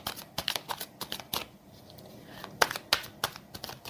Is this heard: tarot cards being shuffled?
yes